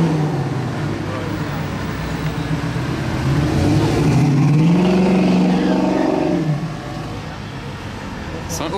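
A Ferrari sports car drives past at a parade, its engine swelling into a loud drone and then fading, heard over traffic noise with people talking nearby.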